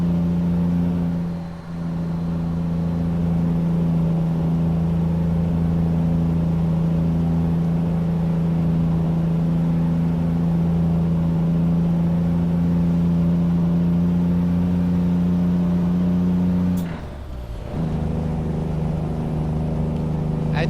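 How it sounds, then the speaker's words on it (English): A Kenworth T2000 truck engine in American Truck Simulator, heard from inside the cab as a steady, loud low drone that holds for many seconds, then dips briefly as it shifts before resuming. "Let's see what it sounds like inside the truck."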